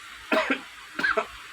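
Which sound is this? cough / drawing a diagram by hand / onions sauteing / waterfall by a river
cough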